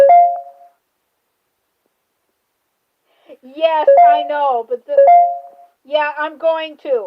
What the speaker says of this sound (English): that's my phone charge making that noise since I have it on the charge